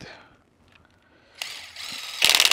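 A driver tightening a pin into an aluminum knuckle and pull rod on a Losi Promoto-MX RC motorcycle, heard as a quiet click followed by rising close-up ratcheting and scraping turns that grow louder toward the end.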